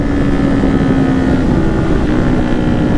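A vehicle engine runs at wide open throttle while riding through a city at night, a loud, steady droning roar mixed with heavy wind rush, with no voices.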